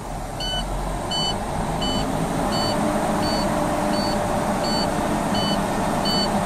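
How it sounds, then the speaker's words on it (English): A truck's air brake low-pressure alarm beeps steadily and evenly, about once every three quarters of a second, over a constant idling engine drone. "that's the audio alarm saying that the low pressure"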